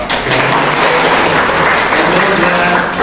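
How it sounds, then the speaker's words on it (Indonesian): Applause from a church congregation at a Sunday worship service, a steady wash of many hands clapping at once, close and loud throughout. "kita beri tepuk tangan dulu, Pak."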